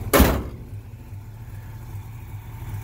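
The hood of a 1971 Dodge Charger R/T with a 440 slams shut in one sharp, loud thud, then a quiet hum lingers.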